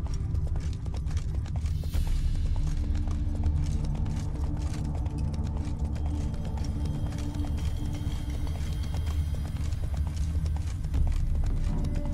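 Rapid horse hooves gallop steadily across ground in the video game The Witcher 3: Wild Hunt, a dense rhythmic clatter for the whole stretch with a faint whinny near the start.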